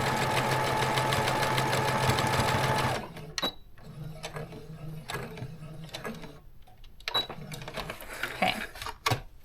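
Sewing machine stitching a scrunchie made with hair ties, running steadily for a few seconds, then stopping, followed by quieter clicks, handling and short bursts of stitching nearby.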